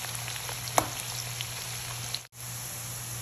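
Onions frying in oil give a steady, close hiss and sizzle with a low hum and one brief clink of stirring, briefly interrupted near the end.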